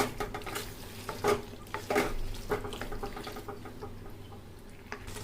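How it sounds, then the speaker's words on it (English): Pasta being stirred in a mixed sauce with seasonings in a pan on a gas stove, a few soft scraping stirs and low sizzle over quiet kitchen background, no speech. "We'll add some pasta seasonings also. And we'll give them a nice stir."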